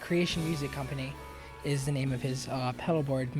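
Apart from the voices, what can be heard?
No everyday noises stand out.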